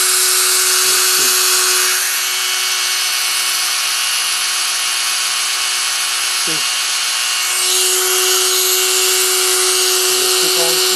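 A steady, loud grinding whine runs on without a break while a salvaged accordion reed is worked against a grinder, with a few short scrapes and a faint voice now and then underneath.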